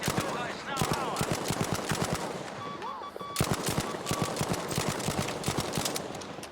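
Machine gun fire in the video game Battlefield 5, long rapid rattling bursts with a short pause in the middle, loud and close, with faint talk underneath.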